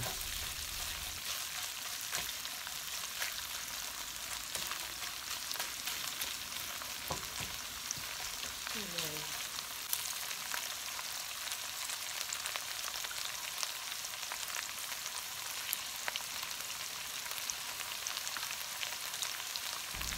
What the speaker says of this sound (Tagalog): Pag mga stir fry po ang ating lulutuin, mas maganda pong marami po tayong onion para po mas malasa po ang ating lulutuin